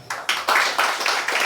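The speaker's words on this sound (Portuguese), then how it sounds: "Agora eu vou pedir uma salva de palmas para o GEDEB" Short burst of group clapping at a festive doctrinal gathering, a few distinct rhythmic claps close by, brief and fairly quiet.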